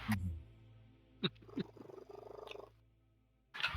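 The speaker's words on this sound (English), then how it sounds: "That is the weirdest but most adorable purr I've ever heard." A cat purrs very close to the microphone in a rhythmic, rattling burst between brief soft noises, with faint voices at the start and end of the clip.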